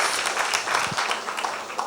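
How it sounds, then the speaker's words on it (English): Audience applause at a cancer hospital fundraiser with a fashion show, a steady wash of clapping from a crowd that holds even and fairly loud throughout. "thank you so much for giving me this round of applause"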